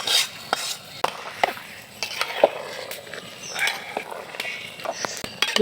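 Dal and rice are stirred into fried onion and garlic for khichuri, a spoon clattering and scraping against the pot in irregular knocks over a faint sizzle, close and fairly loud.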